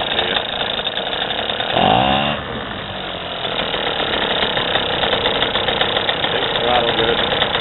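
A 3 hp two-stroke gas outboard on a sailboat runs at a steady buzzing idle close by. Near two seconds the throttle is blipped in a brief rising rev, and a voice talks over part of it.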